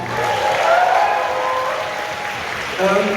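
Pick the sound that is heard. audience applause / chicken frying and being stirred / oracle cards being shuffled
audience applause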